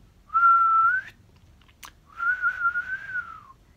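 A person whistles two sustained, fairly steady notes separated by a short pause and a brief click, close and clear with no talking.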